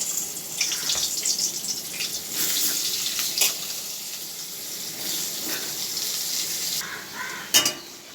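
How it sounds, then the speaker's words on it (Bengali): Potatoes frying in hot oil for an egg omelette curry, a steady hiss of sizzling with a few brief louder crackles and clinks, close and fairly loud, no voices. "তেলটা গরম হয়ে গেছে আগে আলুটা ভেজে নিচ্ছি"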